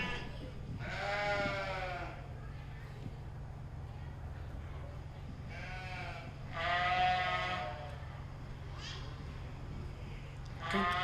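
Sheep bleat in several separate calls over a steady low hum at a commercial ewe show during a 4-H sheep and goat show, the calls clear and moderately close with gaps between them.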